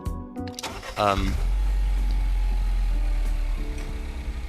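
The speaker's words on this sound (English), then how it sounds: "It does sound like my car when it's starting up though" A Mini Cooper S engine in the Gran Turismo racing game cranks briefly, catches and settles into a loud, steady idle with a deep rumble.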